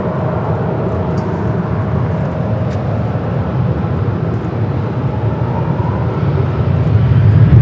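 An airliner taking off from runway 24 left at Los Angeles International Airport: a steady, heavy jet roar heard from a distance that swells slightly louder toward the end, with no voices.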